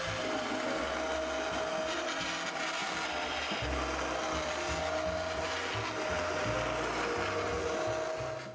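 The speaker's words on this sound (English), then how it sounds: "I'm gonna puree it a little bit with my immersion blender" An immersion blender whirs steadily through broccoli cheddar soup, a continuous close motor drone with a slight grinding texture and no speech.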